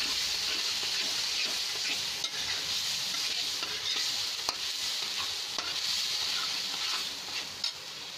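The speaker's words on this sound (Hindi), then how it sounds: "हल्के से चलाएंगे मावे को" Khoa (mawa) stirred in a hot pan while cooking mawa barfi, giving a continuous sizzle with soft scraping strokes and occasional clicks of the spoon, close by and without speech.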